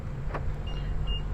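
Folding side mirrors on a 2023 Toyota Supra 2.0 whir briefly as their motors unfold, a short electric hum with a faint click, close by over a low steady background rumble.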